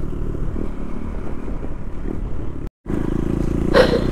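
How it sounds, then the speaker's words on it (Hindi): A KTM Duke 390 motorcycle is ridden on a windy road, its engine droning steadily up close with wind buffeting. The sound cuts out briefly, then returns with a short rising rev. "जैसे थोड़ा सा स्पीड दे रहा हूँ ना पूरी बाइक इधर उधर हो जा रही है"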